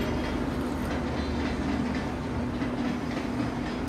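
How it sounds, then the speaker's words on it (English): Train passing somewhere in Kashmir, a continuous rumble of rolling railcars with a steady low drone and faint rhythmic rattle, fairly loud and sustained, with no talk. "And I think you can hear the train."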